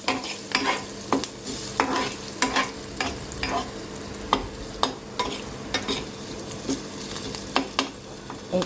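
Onions frying in a pan with salt, a steady close sizzle broken by regular scraping stirs of a spatula against the pan every half second or so, with no voices.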